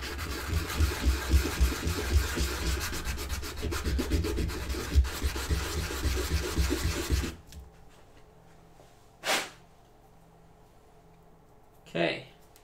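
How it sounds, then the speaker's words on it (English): Rough, rhythmic rasping of sandpaper across the bottom of a resin keycap mold, a steady near scrubbing that stops abruptly partway, followed by a couple of brief isolated noises. "Let's sand that bottom down."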